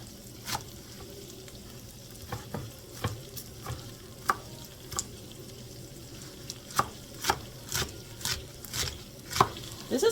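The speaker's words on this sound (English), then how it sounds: "I am going to start dicing my kale." A knife dicing a small bundle of kale on a cutting board: irregular sharp chops, some in quick clusters, over a steady background of sausage and bacon sizzling in a pan.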